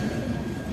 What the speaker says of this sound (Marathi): ट्रेन आली फायनली